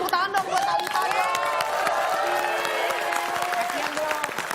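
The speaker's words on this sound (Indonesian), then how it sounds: "Boleh kita tepuk tangan dong buat Thalita ya." A talk show's studio audience claps and cheers for a guest: dense, sustained applause with raised, excited voices shouting over it throughout.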